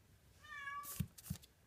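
A house cat gives one drawn-out meow indoors, followed by a couple of soft thumps and rustles.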